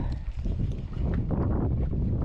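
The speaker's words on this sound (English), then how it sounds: "that wind's messing it up" Wind buffets the microphone during a fall fishing outing, a constant low rumbling roar filling the whole moment with no voices.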